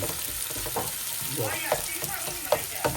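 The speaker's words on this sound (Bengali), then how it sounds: "লাল মরিচ ওটা বাজছে" Red chillies frying in hot oil with onions, a steady close sizzle and crackle with a few sharper pops and faint stirring scrapes.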